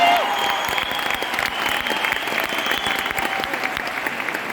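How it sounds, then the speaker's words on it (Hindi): Sustained applause from an awards-function audience in Delhi for bronze directors, dense steady clapping filling the hall throughout, loud and continuous with a faint tonal hum underneath. "इसलिए ब्रॉन्ज डायरेक्टर्स के लिए बहुत ज्यादा ताली"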